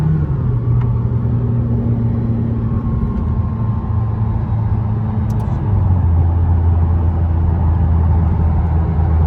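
A McLaren 600LT sports car engine rumbles loudly and steadily under engine braking, its low pitch stepping down as it downshifts through gears, then settling into a deeper drone.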